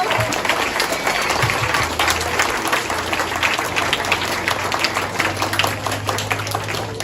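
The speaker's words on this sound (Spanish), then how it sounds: "vamos a regalarles un aplauso a estos niños." A crowd applauds children at a Grade 4 school presentation, steady dense clapping filling the room throughout, loud and close, with a low hum underneath.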